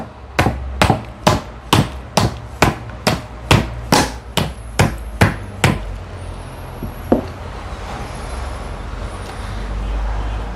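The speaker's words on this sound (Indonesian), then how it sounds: "Atau bisa juga kita ketuk-ketukan palu ke dalam wadah plastik ini." A hammer taps repeatedly on a plastic container in a steady run of about fourteen sharp, close knocks at a regular pace, then stops, leaving a faint room hum and one last isolated knock.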